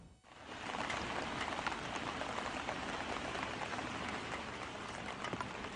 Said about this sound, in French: Aujourd'hui, il pleut à Miyazaki, dans le sud du Japon.